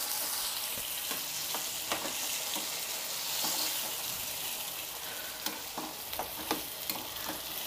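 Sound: mixing eggplant bajji curry in a pan

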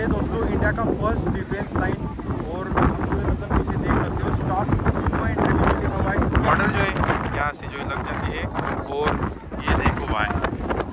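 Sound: wind blowing at India–Pakistan border area

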